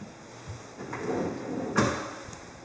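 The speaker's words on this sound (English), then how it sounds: "And these are the self-closing cabinets" A self-closing kitchen cabinet drawer slides shut with a soft rolling rumble, ending in a gentle thud near the end, heard fairly close in a quiet room.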